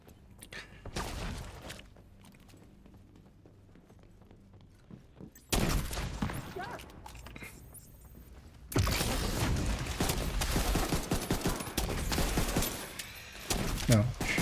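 Gunfire in the video game The Division, a quiet opening that breaks into sustained loud shooting in the second half, with bursts and impacts layered under game noise and some voice.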